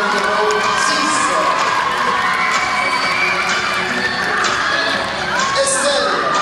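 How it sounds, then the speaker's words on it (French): Audience at a beauty queen election evening in Mèze cheers and applauds for a pageant candidate, a loud, continuous wash of clapping, shouts and crowd noise filling the hall throughout. "Merci de l'applaudir, s'il vous plaît"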